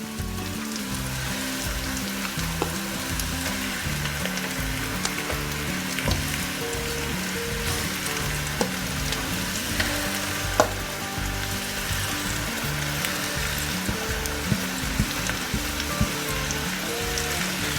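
Fish pulusu masala sizzles in a pan, a dense crackling frying sound like rain with occasional soft stirring clicks, steady and close with no talking.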